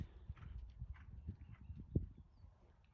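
A pony trots at a Pony Club schooling session, its hooves making a steady, even clip-clop rhythm on the ground. The beats are close and moderately loud, with no one talking over them.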